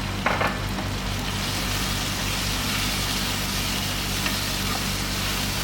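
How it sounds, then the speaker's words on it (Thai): Chicken breast stir-frying in a hot wok sizzles steadily with a constant crackling hiss, close up, under a low background hum. "ผัดให้สะดุ้งไฟนะคะ สุกสักเล็กน้อยค่ะ"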